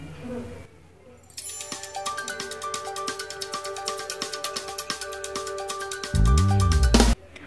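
A phone set ringing remotely with a find-device feature plays a melodic ringtone of repeated bright tones in a steady pattern for several seconds, then a louder buzzing burst near the end.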